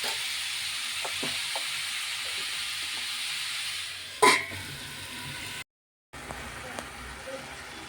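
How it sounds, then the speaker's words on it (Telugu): Prawns frying in a pan with cucumber, a steady soft sizzle with a few light taps, one sharp clink in the middle and a brief drop to silence. "ఒక రెండు నిమిషాలు అలా మనం ఫ్రై చేసుకుందాం"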